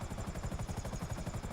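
Nagasaki Buzzard helicopter in the video game GTA Online, its rotor thumping in a fast, steady rhythmic chop that stays loud and close throughout.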